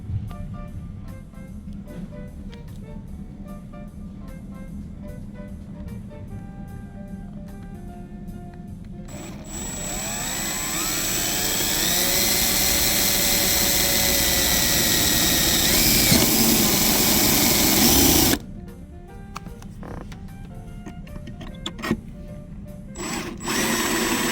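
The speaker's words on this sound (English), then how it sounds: "So let's go start drilling our hole" An electric drill whines steadily for several seconds as it bores a hole in a Fiero tail light, rising in pitch, then stops, leaving quiet handling noises and brief bursts.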